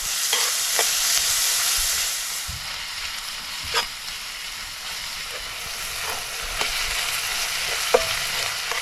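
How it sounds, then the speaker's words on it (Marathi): Onion frying in hot oil on a wood-fired stove for vegetable fried rice, a constant bright sizzle with occasional soft spatula taps and scrapes, close and steady. "हलक्या हातीन आपण हा कांदा तेलात गरम करून घेऊया"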